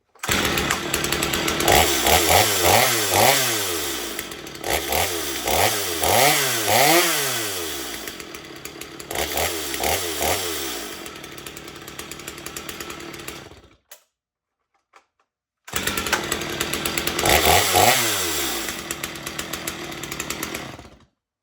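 A Stihl MS250 chainsaw with a 20 inch bar runs loudly up close. It revs up and down several times, then stops for a couple of seconds, restarts and revs again.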